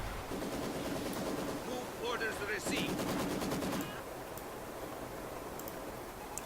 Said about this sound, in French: Et on va avancer nos mitrailleuses